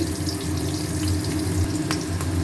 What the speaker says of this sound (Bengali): কুমড়ো ভাজা হচ্ছে